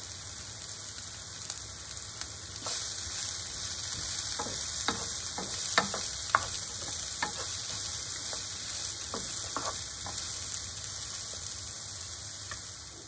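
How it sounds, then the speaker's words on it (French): Potatoes fry in fat in a pan, giving a steady close sizzle with scattered sharp crackles and pops throughout, no voices. "Je vais les mettre dans une poêle avec de la matière grasse et je vais les refaire revenir une dizaine de minutes."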